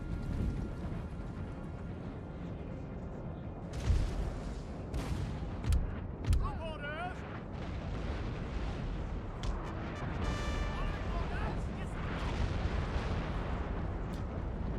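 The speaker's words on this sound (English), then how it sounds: "Keep them under artillery barrage for the moment." Artillery barrage in a Napoleon: Total War battle: several heavy booms roll out over a dense, continuous din of battle, with musket-like crackle and brief higher calls scattered through.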